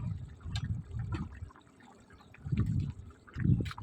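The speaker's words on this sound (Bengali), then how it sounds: "মাংসটা ঝোলটা ফুটে উঠেছে।" Duck meat curry broth simmering at a boil in a pot, with soft liquid bubbling and gurgling that swells and fades in a few close, quiet bursts.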